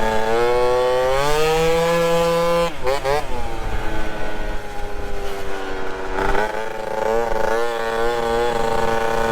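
A modified moped engine revs hard at speed, its buzzing pitch climbing, dipping between shifts and climbing again, loud and close throughout.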